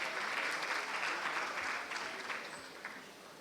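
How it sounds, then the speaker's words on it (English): An audience at a procurement workshop applauds a team already seated on the dais, with dense, even clapping at moderate volume that tapers off slightly at the close. "can we have a round of applause for our GEM team who is already on the dais?"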